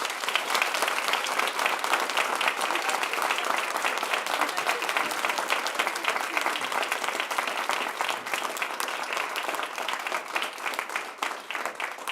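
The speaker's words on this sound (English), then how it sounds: "Big round of applause." Sustained applause from an audience at a moot court honorary round fills the room, dense and steady clapping throughout with no break, loud and close.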